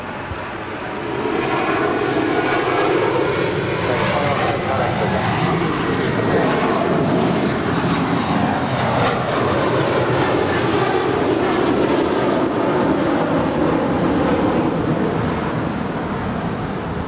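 A loud jet airliner roar at LAX airport swells in after a quiet second and holds as a broad, steady rush for the rest of the stretch, with no talk.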